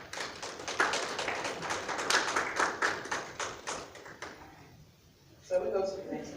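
A small audience claps at a leadership symposium, a dense burst of handclaps lasting several seconds before fading out, with a brief voice coming in at the end.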